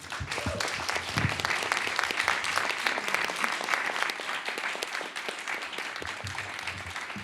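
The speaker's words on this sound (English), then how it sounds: "A huge round of applause, please." A large audience at the 2025 Verbier Art Summit applauding steadily, dense clapping that holds at an even level throughout, with a few faint voices mixed in.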